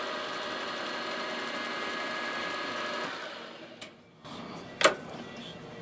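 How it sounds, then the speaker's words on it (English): A small countersink bit cutting into metal on a machining job for a knurling tool, heard as a steady whirring drone that slows and drops off, followed by a couple of brief clicks and knocks. "Now I want to run my little countersink bit down in there"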